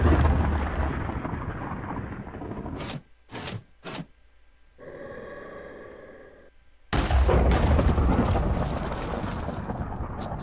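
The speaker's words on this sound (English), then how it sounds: "you right click the cannon and it will load it. Then you sit in it, and then you hit space when you're ready to fire." A cannon from a Minecraft weapon mod fires in the video game, loud booming blasts with rumbling decay, a few sharp bursts and a pause before another heavy roaring stretch, with no talk.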